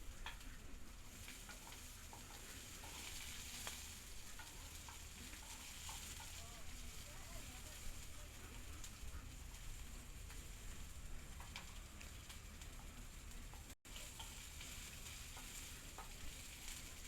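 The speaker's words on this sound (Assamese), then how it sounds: "পিয়াজখিনি অলপ ৰঙচুৱা হোৱালৈ মই ভাজিম।" Chopped onions fry in oil with a steady, dense sizzle for papad curry, the crackle holding evenly throughout at close range with a brief dropout near the end.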